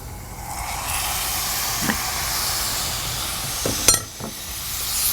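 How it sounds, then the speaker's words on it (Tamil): Chicken pieces for Pallipalayam chicken sizzling as they fry in a pan, a steady close hiss with a few brief louder crackles and spits. "சிக்கன் ஆட் பண்ணிவிட்டு நல்லா ஒரு ஃப்ரை கொடுங்க"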